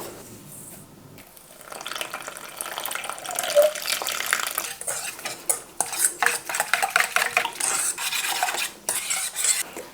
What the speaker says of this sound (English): I'm gonna mix it with some water to get like a gel.